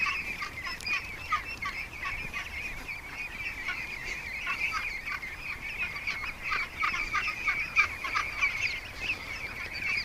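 A group of ducks quacks and chatters steadily as they are herded into a pen, a continuous overlapping din of nasal calls at moderate distance.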